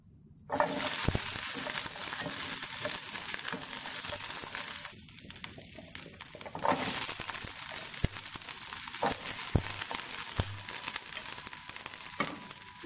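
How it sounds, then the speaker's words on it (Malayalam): Shallots sautéing in hot oil with dried red chillies for ullichammanthi, a loud continuous sizzle that begins abruptly as they hit the pan, punctuated by occasional spoon clicks and stirring, close by with no voices. "നന്നായിട്ടൊന്ന് വാട്ടുക എണ്ണയിലിട്ടിട്ട്"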